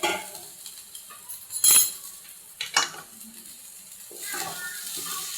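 Cooked rice being mixed into dissolved sugar for coconut sweet rice, giving a few scraping clinks of a spoon against the pan over a soft sizzle, close and moderately loud.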